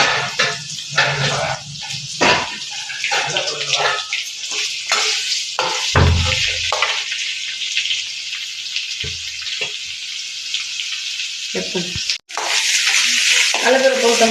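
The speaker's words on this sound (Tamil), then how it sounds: "வெங்காயம் போட்டோம். வெங்காயம் வந்து நம்ம சிவரணும், கொஞ்சம் நல்லா சிவந்து வரணும். அதை நல்லா வதக்கணும்." Onions and chana dal frying in a pan while being stirred, a close, continuous sizzle broken by scraping and clattering stirring strokes, with one brief pause before the frying resumes.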